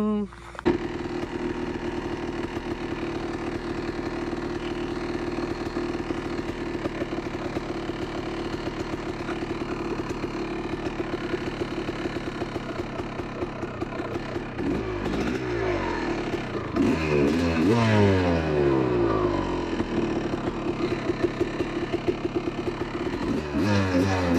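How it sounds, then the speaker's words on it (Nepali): A Honda CR250 two-stroke dirt bike in Nepal starts and idles with a raspy, steady drone, then revs up and down in rising and falling bursts in the second half, loud and close. "पहिला बाइक झिक्छु अनि गियर अप गर्छु अनि जान्छु"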